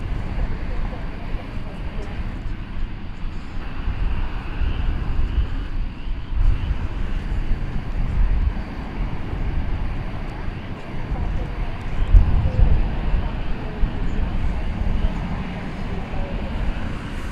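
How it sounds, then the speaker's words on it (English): A Boeing 777 airliner takes off from DFW Airport at night on a long-haul departure to London, its broad, steady engine roar sustained and distant, with a voice talking over it. "So it looks like we will get to see the 777 take off to London."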